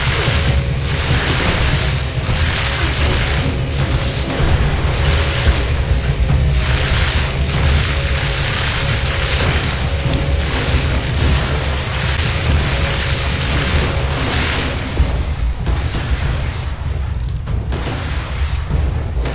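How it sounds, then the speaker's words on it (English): Fireworks launch and explode in Fallout 76, giving a run of repeated muffled booms over a continuous rumbling wash that thins out near the end. "This one you have to launch fireworks."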